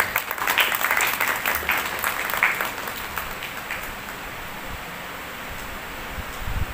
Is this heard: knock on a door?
no